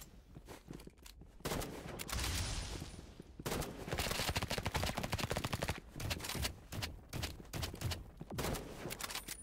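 Rapid bursts of gunfire crackle in the Roblox game Rivals, dense volleys of shots coming in clusters with short pauses, fairly close and loud.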